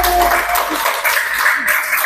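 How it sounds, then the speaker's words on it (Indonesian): Classroom applause for a student group after a discussion, a dense, steady wash of clapping hands close by, without clear speech over it. "Oke, tepuk tangan untuk kelompok"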